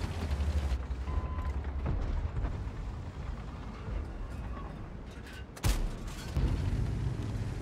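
A tank cannon firing in the video game World of Tanks, a loud sharp boom about two-thirds through, standing out from steady engine rumble and scattered battle noise.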